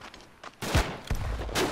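Gunfire in the trench warfare video game Verdun, a quiet start followed by several loud, close rifle shots in quick succession, with no talk.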